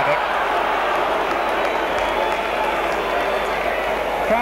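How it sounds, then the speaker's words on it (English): Crowd at a 1989-90 Leeds versus Swindon Town football match, a continuous loud stadium roar and murmur with no break and no clear single voice. "Crowd just getting a little bit impatient with Leeds"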